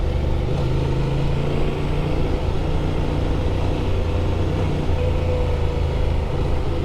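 A 2024 Honda Transalp XL 750 motorcycle ridden through the California desert, its engine a steady, loud, close drone with constant low rumble and wind rush throughout, no voices.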